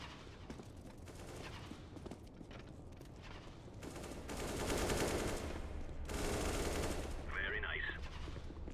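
Gunfire in Counter-Strike: Global Offensive during a competitive match, heard as fairly quiet rapid volleys and rattling bursts that swell and fade over a busy game background.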